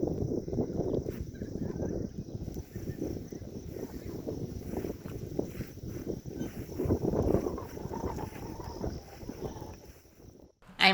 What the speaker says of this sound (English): It was a windy day